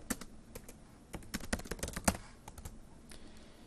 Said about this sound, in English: I'll type my first and last name